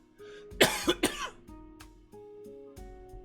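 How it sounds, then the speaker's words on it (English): A close, sharp cough burst of three quick hacks, followed by quieter low background tones. "Pardon the cough here."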